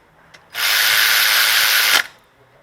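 A power tool runs in one steady loud burst of about a second and a half, tightening the 12 mm alternator bolts on a Honda V6 engine, with quiet before and after.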